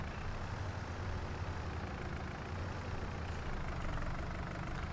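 A small tractor engine idles in the Farming Simulator game, a steady low rumble that holds at an even level throughout with no talking.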